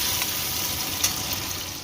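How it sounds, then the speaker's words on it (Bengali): Potato pieces fry in a pan of oil, giving off a continuous close hiss and sizzle that holds steady throughout. "টুকরো করে রাখা আলু ঠিক পনিরের মতোই লাল লাল করে ভেজে নেব"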